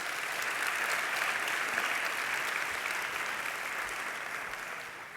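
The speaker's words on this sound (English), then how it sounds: "Let's give him a round of applause." Sustained audience applause fills a packed room at a national town hall conference, steady and loud throughout with no speech on top.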